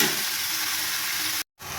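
Ivy gourd sizzles steadily in a pan with onion and tomato, salted and fried until reddish, a continuous close frying hiss that cuts out briefly near the end before resuming.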